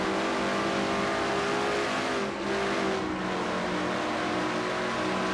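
Steady, loud engine drone of the number 15 Motorcraft Ford stock car in a NASCAR-style racing video game, heard from on board, continuous and unbroken with a slight dip midway.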